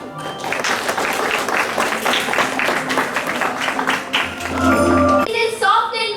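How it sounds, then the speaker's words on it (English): A school assembly audience applauds the girls of classes 6 to 8 at a Christmas programme, dense steady clapping throughout with voices and some tonal music rising near the end. "Please give a big round of applause for the girls of class 6,"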